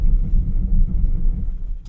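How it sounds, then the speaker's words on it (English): A 2025 Nissan Murano Platinum with all-wheel drive rolls to a stop on a snowy road, a steady low rumble of tyres and engine heard from inside the cabin that eases slightly toward the end. "We'll do an analog brake check."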